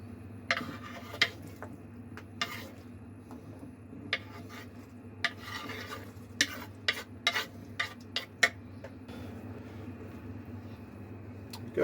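A spoon stirs chicken meatball and green onion soup in a pot, giving quiet, scattered scrapes and clinks against the metal over a low simmering hum, with a few faster taps clustered near the middle.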